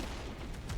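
Musket volleys crackle in the Napoleonic strategy game Master of Command, foot guards taking fire from behind; a dense, continuous rattle of distant shots with a heavier boom near the end, no voices.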